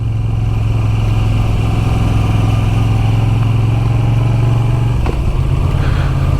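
Moto Guzzi V7 Sport motorcycle engine pulling steadily while riding, a loud continuous low throb with a brief shift in tone near the end, no voices.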